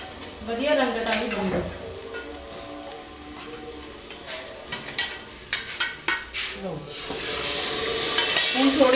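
Spices for a white chickpea curry fry in oil with added water and tomato, a continuous close sizzle broken by several quick stirring scrapes of a spoon against the pan.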